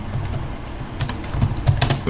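Quick, uneven typing on a computer keyboard, with close, crisp key clicks and a few louder taps near the end. No one speaks.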